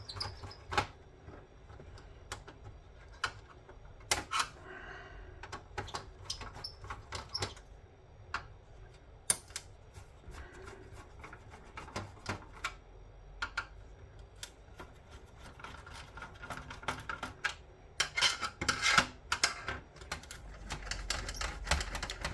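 Circuit boards being pulled out of scrap electronics, with a card bearing a bit of gold: scattered sharp clicks, snaps and clatters of metal and plastic, close by and irregular, some quick bursts near the end, with no talking.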